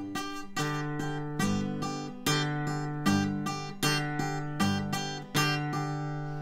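Ragtime blues fingerpicking on a guitar: a steady rolling pattern pairs a bass string with the same top string, then repeats the top string, giving evenly spaced, close plucked notes that ring over each other.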